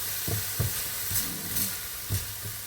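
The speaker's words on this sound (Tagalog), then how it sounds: "Tapos mamaya dito na lang tayo mag-prito din ng ating magiging tortang talong." Eggplant omelette (tortang talong) sizzles in a hot frying pan with a constant hiss, broken by a few soft scraping stirs.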